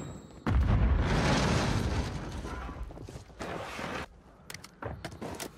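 A heavy precision airstrike explosion in Warzone 3 lands with a deep, loud boom that rumbles and fades over several seconds, followed by scattered sharp impacts and debris clatter.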